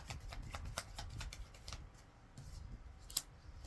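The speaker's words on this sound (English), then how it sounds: "Let me get a good shuffle for my pile number 2" Tarot cards are shuffled quickly in a series of soft, rapid riffling bursts, quiet and close.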